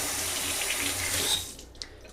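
Lemons being rinsed under a running kitchen tap for a roast chicken recipe: a steady hiss of flowing water that stops abruptly near the end, followed by a small drip or clink.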